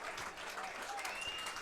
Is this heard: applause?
yes